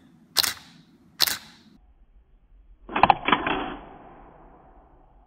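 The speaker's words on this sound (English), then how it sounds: "the shutter from top to bottom, opening, allowing the light to hit the sensor from top to bottom" A Canon T5i DSLR shutter fires twice in quick crisp clicks, then after a pause a longer mechanical clatter of the shutter opening and closing for a slower 1/25 exposure, close and clear.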